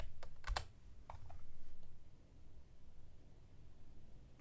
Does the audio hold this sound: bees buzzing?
no